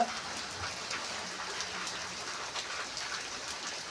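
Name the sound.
rain falling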